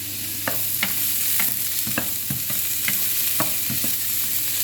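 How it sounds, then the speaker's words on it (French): Food frying in a pan, a steady close sizzle with scattered pops and light clicks of stirring over a constant hiss, with no voices. "Donc vous entendez bien le bruit de la cuisson"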